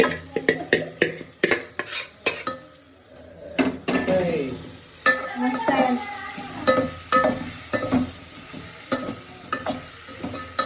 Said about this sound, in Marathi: आपल्याला मटण टाकायचं आहे